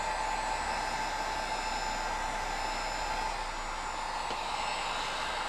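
A heat gun runs steadily while warming vinyl wrap on a car's hood scoop, a constant close airy roar with a faint whine that holds level from start to finish, with no talking.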